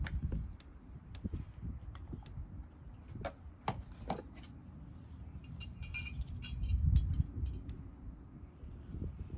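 A glass hummingbird feeder with a handle and feeding ports clinks and taps as it is handled up close, giving scattered sharp chinks over low handling rustle, with no talking.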